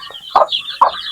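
Young chicks kept as backyard poultry make two short, bright clucking calls about half a second apart over a steady thin peeping background, close by and moderately loud, with no talking.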